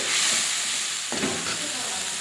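A paste of spices, green chilli, garlic and onion sizzles in oil in a wok, with a short scrape of stirring partway through; close, steady frying with no voices.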